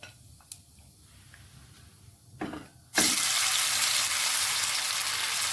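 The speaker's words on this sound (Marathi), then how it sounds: "जोपर्यंत याला चांगल्या प्रकारे ब्राऊन कलर येत नाही तोपर्यंत आपल्याला हे तसंच म्हणजे फ्राय होऊ द्यायचं आहे चांगल्या प्रकारे।" Marinated paneer with cumin frying in oil, a loud steady sizzle that bursts in suddenly after quiet kitchen clatter and keeps a dense hiss to the end.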